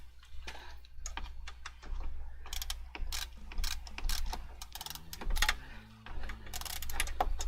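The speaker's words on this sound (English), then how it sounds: "we put a little bit of cranking on that bolt so it doesn't just come out for no reason." A ratchet wrench cranks a bolt tight, a long run of rapid, close mechanical clicks with brief pauses and uneven bursts of ratcheting.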